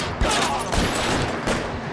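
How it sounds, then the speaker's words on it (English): Rapid gunfire in the video game L.A. Noire during a street crime shootout, a dense burst of overlapping shots with sharp cracks at moderate loudness over about two seconds. "so many bullets"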